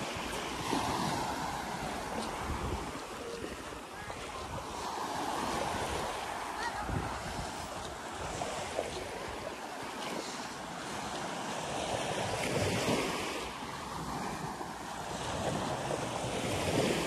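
Waves roll onto Mae Nam Beach on Koh Samui in a continuous surf wash that swells and eases, with wind buffeting the microphone throughout and no clear voices.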